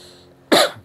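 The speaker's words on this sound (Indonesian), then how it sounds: "Maaf, batuk." A single sharp cough bursts out after a quiet stretch, close and loud, rising abruptly and then trailing off within a fraction of a second.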